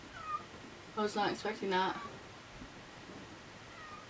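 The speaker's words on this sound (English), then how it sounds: "Do y'all hear my cat? He's so mad." An angry house cat meows loudly in a short drawn-out burst of two or three cries mid-clip, close by, with a person speaking briefly before and after.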